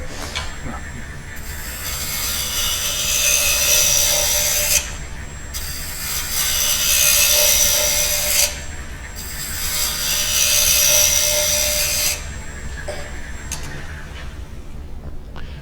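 A small wooden box is turned on a wood lathe: three long, loud cutting passes of a chisel hiss and scrape against the spinning wood, separated by brief pauses over a steady motor hum.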